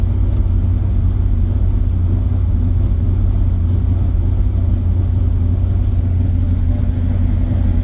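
A 1980 Chevrolet Malibu with a 406 small-block Chevy V8, freshly rebuilt, runs steadily after a cold start, its deep, loud rumble continuous and close with no talking.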